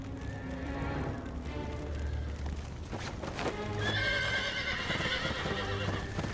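Horses whinny loudly over a steady clatter of hooves and background commotion, the neighing rising sharply near the end.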